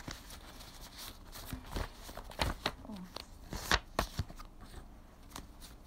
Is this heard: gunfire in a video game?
no